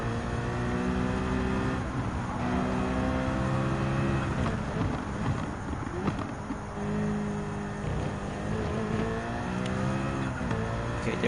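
A car engine held at full throttle in the racing game Gran Turismo 7, a continuous high revving drone with rising gear-shift sweeps, loud and unbroken for the whole stretch.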